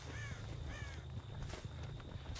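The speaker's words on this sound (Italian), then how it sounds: "Questo è un corvo." Repeated crow caws from the video game Dead by Daylight, a few harsh calls in quick succession over a steady low in-game ambient drone.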